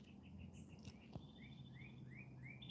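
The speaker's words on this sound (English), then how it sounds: "As I hear the beautiful birds." Birds sing outdoors in short, repeated chirps and rising whistled notes, faint and somewhat distant, over a quiet low background hum.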